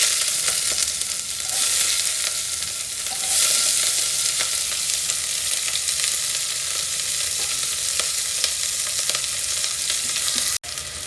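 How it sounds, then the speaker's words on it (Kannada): One or two onions fry in hot oil with a loud, continuous close-up sizzle for about eleven seconds. A brief clatter sounds near the end. "ನಾನು ಮೊದಲಿಗೆ ಇಲ್ಲಿ ಆಯಿಲ್ನ ಸೇರಿಸ್ಕೊಂಡಿದ್ದೀನಿ ಒಂದರಿಂದ ಎರಡು ಈರುಳ್ಳಿನ ಸೇರಿಸ್ಕೊಳ್ಳಿ"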